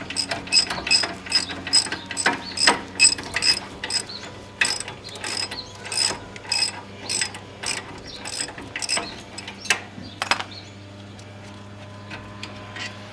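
A hand ratchet clicks rapidly in repeated bursts while loosening 19 mm brake caliper nuts on a Mercedes 300D, loud and close, then slows and fades toward the end.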